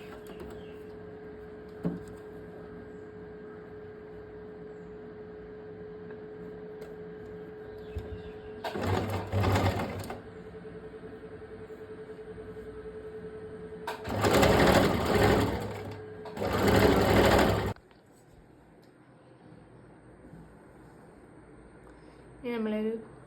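A sewing machine stitching a georgette shirt, running in three loud close bursts of rapid needle chatter, one short and two longer, over a steady electric hum, with a person talking quietly in between.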